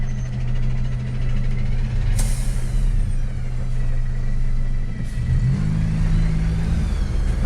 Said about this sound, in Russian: И машин много даже там.